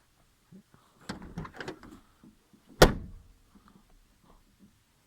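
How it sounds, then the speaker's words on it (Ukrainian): The trunk lid of a ZAZ 1103 car shuts with one sharp metallic thunk, close by, after a few soft rattles and handling sounds in an otherwise quiet setting. "Затягуємо болти, закриваємо."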